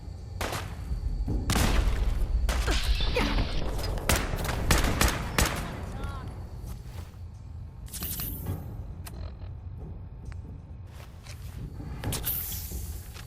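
Gunfire in Fallout 4 from a sustained battle: dense bursts of shots and heavy thuds in the first half, then sparser cracks, some near and some distant, with footsteps in between.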